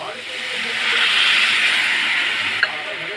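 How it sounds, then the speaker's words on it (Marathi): Tamarind water hits a hot pan of fish sautéed in oil and masala, releasing a loud, sustained steam hiss that swells and slowly fades, ending in a small clink. "हे आहे चिंच पाणी."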